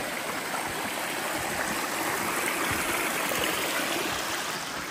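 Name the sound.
small waterfall and stream on Appalachian Trail climb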